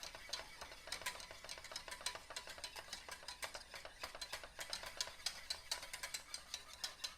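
A whisk scrapes and clicks briskly around a pot of thickening banana pudding, making quick, rhythmic strokes that sound close and fairly quiet. No voices are heard.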